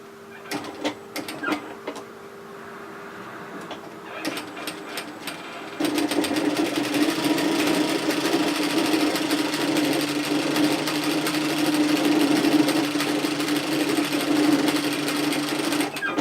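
A sewing machine sews a dress seam, starting with a few short stitching bursts and then running in a steady, fast, even whir near the listener.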